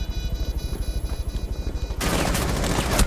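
Rapid shotgun blasts in Rainbow Six Siege during a competitive scrim, a steady burst of evenly spaced shots followed by a dense, loud roar of gunfire and explosions, with no talking.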